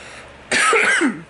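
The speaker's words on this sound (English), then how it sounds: "I might cough here and there." A single short, harsh cough from a person who is slightly sick, close to the microphone and loud against a quiet background.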